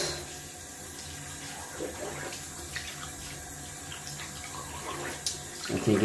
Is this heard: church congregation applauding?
no